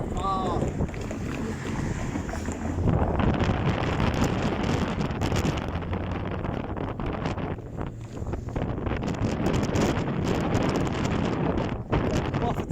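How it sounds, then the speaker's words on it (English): Strong wind buffets an outdoor microphone beside a roadside near tram and bus lines, a loud continuous roaring rumble that gusts and swells throughout with no break. "I'm getting buffeted by the wind."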